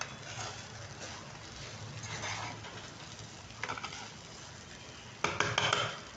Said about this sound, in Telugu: ఒక్క నిమిషం పాటు ఫ్రై అయితే ఈ కారం అవంతా బాగా పడుతుంది రైస్కి, మంచి టేస్ట్ వస్తుంది.